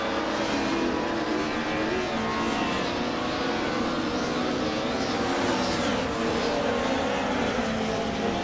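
A 1986 Alfa Romeo 75 racing engine roars steadily in a racing video game, a continuous loud drone with constant high revving and no pauses throughout.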